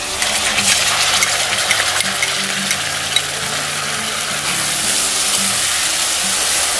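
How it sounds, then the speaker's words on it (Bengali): Ginger garlic paste sizzles loudly in oil with browned onions, a dense steady frying hiss carrying a few sharp metallic taps from a spoon against the pan, no voices. "তো এবার আমি আদা রসুনের পেস্টটা দিয়ে দিচ্ছি।"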